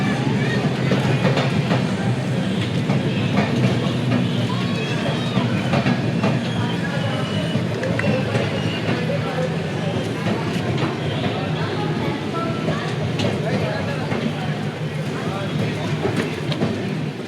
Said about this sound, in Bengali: আমাদের ট্রেন এনজেপি থেকে ছেড়ে দিল